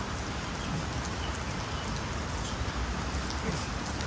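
Steady, dense rain patters and hisses outdoors during a yoga session, a constant wash of drops on surfaces with no breaks and no talking.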